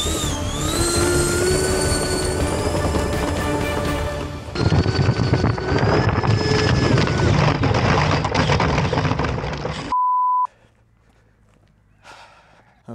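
A giant Magnus-effect model plane's engine runs up for a short hop, a loud, whirring motor with rising and shifting whines that cuts off abruptly near the end, followed by a brief tone and near silence.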